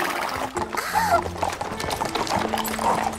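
Cartoon horse hooves clip-clop in a steady rhythm at moderate loudness, with soft background music and a few animated voices.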